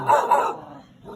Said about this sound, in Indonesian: yang menggonggong di sini, anjing kita di sini.